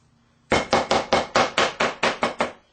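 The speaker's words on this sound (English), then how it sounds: "Nice coarse chop on the peppers." A knife strikes a cutting board in about ten evenly spaced, loud, close chops while coarsely cutting old peppers, each blow a sharp knock that decays quickly, with no talking.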